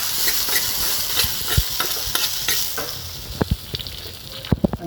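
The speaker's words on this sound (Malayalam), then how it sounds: "നമുക്കിതിലേക്ക് ഈ വറവ് കൊടുക്കാം." Hot tempering poured into a Kerala pumpkin and split moong dal curry (cherupparippu mathan curry) after onions have browned, giving a steady close sizzle with scattered pops and spatters, fading as the oil settles.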